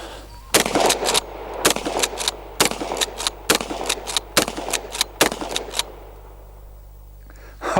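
Repeated gunshots are fired through a shooting target: about eight sharp, loud cracks in an irregular series, each with a short tail, over a steady low hum and with no talking.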